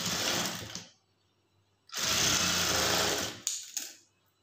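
A sewing machine runs straight stitching along a blouse lining in bursts: a short run, a pause, then a longer steady whir that stops abruptly, followed by a brief final spurt of needle chatter, close and clear.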